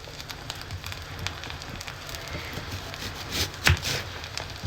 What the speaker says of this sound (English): If you are remotely disturbed by the noise outside, it's raining cats and dogs.